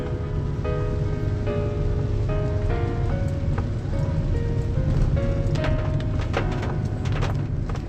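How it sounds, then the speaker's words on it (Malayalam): Light rain drizzles steadily in Pathanapuram, Kollam, giving a continuous even hiss with scattered drop ticks, while faint tonal sounds run underneath. "പിന്നെയും ചെറുതായിട്ട് ചാറാൻ തുടങ്ങിയിട്ടുണ്ട്"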